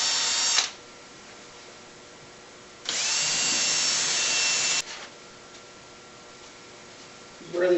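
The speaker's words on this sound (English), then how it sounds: "mark the corners so I can drill into the spoil board" Two loud bursts of power drilling into a ShopBot spoil board, each lasting a couple of seconds and separated by a quiet pause, with a third burst starting at the very end.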